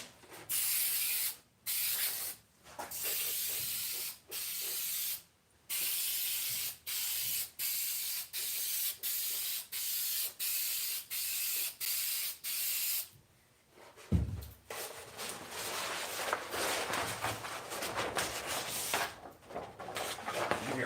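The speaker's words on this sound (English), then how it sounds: "Go ahead and get the spray adhesive on here." Spray adhesive is applied to a model train layout in short, repeated hissing bursts about a dozen times with brief gaps. It then shifts into a longer, continuous spray hiss near the end.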